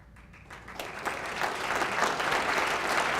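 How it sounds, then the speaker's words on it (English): Audience applause at a Rotary Club of Louisville meeting builds steadily from scattered claps into fuller, sustained clapping across the room, moderately close and without talk. "I didn't expect an applause."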